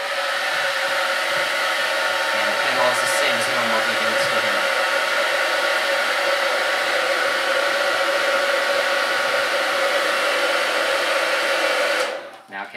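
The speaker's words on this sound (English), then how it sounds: "I got a air dryer here, and we'll test it" A hair dryer blows on a heat detector with a loud, constant close-up whoosh for about twelve seconds before abruptly shutting off.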